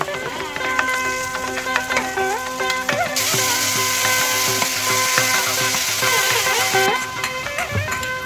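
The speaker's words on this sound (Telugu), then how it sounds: "మాడకుండా లో ఫ్లేమ్లోనే పచ్చివాసన పోయేదాకా వేపాలి" Ground curry leaves fry steadily in a pan over a low flame, giving a continuous close sizzle with scattered clinks and scrapes as they are stirred, with no talk.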